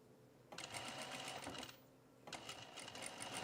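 A sewing machine stitches a bralette seam in two fast, loud bursts split by a short pause, with quiet room tone before the first run.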